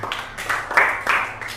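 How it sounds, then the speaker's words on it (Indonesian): A classroom of students gives brief, light applause during a practical exam presentation, with a few uneven bursts of clapping at close range. "Ya, tepuk tangan."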